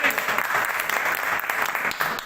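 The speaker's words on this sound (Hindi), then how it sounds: "कप्तान साहब के लिए जोरदार तालियां हो जाए" A gathering on the OROP pension issue gives the captain loud, dense applause: a continuous wash of many hands clapping at once, close and full throughout.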